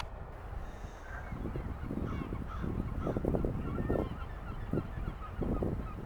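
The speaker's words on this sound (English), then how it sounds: "I see some seagulls down there." Seagulls call in a series of harsh, repeated cries over a steady rush of wind and water in a harbor, moderately distant.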